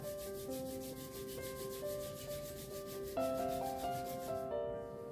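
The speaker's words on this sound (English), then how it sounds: "Rub your palms on each other." Palms rubbed together during a seated yoga session make a steady, continuous rubbing swish over soft background music with sustained tones.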